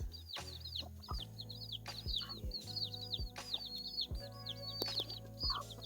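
Pet chickens on a farm give soft repeated clucks and short calls close to the mic, with rhythmic low thumps and faint chirps from other birds underneath.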